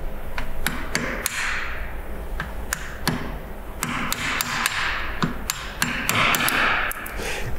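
Repeated hammer blows strike a Corian worktop made largely of stone, sharp hard impacts arriving irregularly, sometimes in quick pairs, over a steady broadband background noise.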